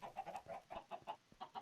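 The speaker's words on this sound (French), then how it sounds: "Ici il y a les poules qui font des œufs et ça tombe là." Chickens in the video game Acecraft Skycube cluck in quick, repeated bursts, several short calls in a row at moderate level with no talking.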